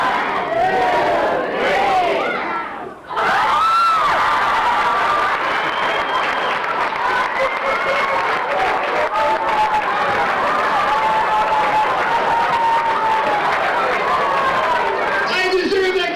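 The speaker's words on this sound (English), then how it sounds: "He'll get a big round of applause." A crowd at an elementary school graduation cheers and applauds loudly after a magic trick. The roar is dense and sustained with a short dip near the start, and voices shout and chatter through it.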